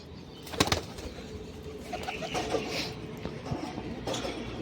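Pigeons flap their wings in a few quick, fluttery bursts nearby, with soft bird sounds and faint outdoor ambience around them.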